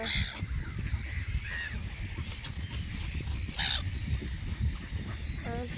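Swans and ducks honk and call repeatedly over a steady noisy background, with several goose-like cries standing out at moments.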